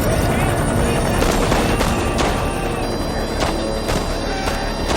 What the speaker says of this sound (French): Ils sont en plein milieu des tirs antiaériens de l'ANV.